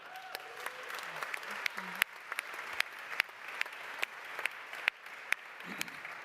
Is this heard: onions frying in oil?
no